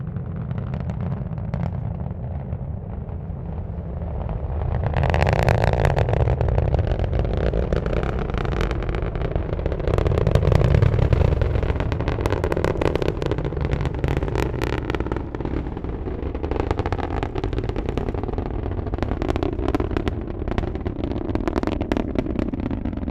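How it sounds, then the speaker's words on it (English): SpaceX Falcon 9 lifting off from Kennedy Space Center on its nine Merlin engines, carrying 53 Starlink satellites: a loud, sustained broadband roar with crackling bursts that swells and rumbles on steadily throughout. "rocket carrying 53 Starlink internet satellites into orbit"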